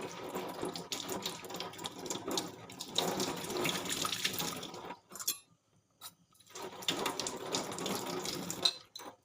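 A kitchen tap runs over a banana flower being washed, the water gushing in bursts that stop briefly and then resume, with splashing and rinsing noises close by.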